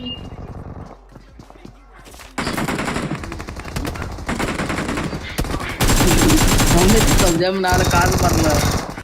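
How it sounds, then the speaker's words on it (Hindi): Heavy automatic gunfire from a mobile shooter game in winter mode, dense bursts of rapid shots crowding the whole stretch, growing louder near the end, with a voice talking over part of it. "यहाँ पे इतना ज्यादा फायर हो रहा है कि क्या ही बताऊं।"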